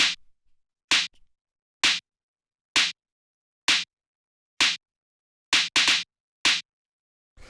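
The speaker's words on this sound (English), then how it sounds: "just sort of like a nice punchy sort of drum machine style snare" Punchy drum-machine style snare sample from a gritty electro beat, struck repeatedly in a steady rhythm with a quick double hit near the end, each crack short, bright and isolated against silence.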